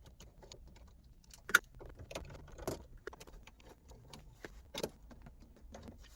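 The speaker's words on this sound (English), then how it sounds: "we're gonna take our T25 and we're gonna remove two bolts on each side of the radio" Small metallic clicks and taps from a T25 driver loosening radio bolts inside a Porsche cabin, faint and close, with scattered sharp ticks and a couple of louder knocks against a quiet background.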